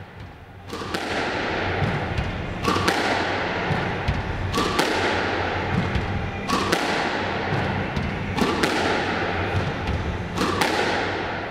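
A squash ball strikes the front wall again and again in a steady, evenly spaced rhythm, about every two seconds. Each hit is a sharp, hollow thud with a bright crack that echoes in the enclosed court.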